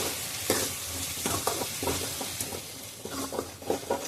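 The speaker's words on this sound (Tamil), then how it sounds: "ஒரு 2 நிமிஷத்துக்கு எண்ணெயில் ஃப்ரை பண்ணிடுவேன்" Ground green spice paste frying in oil for a chicken gravy, a dense close sizzle broken by repeated rhythmic scraping strokes of a spoon stirring through the pan.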